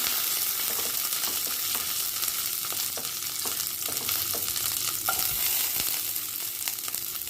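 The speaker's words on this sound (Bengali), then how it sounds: "এতে সামান্য পরিমাণ তেল দিয়ে আমি দিয়ে দিচ্ছি শুকনো লঙ্কা, কাঁচা লঙ্কা, রসুন" Dry red chillies, green chillies and garlic frying in a little oil, giving a dense, steady sizzle with occasional stirring scrapes, close and without talk.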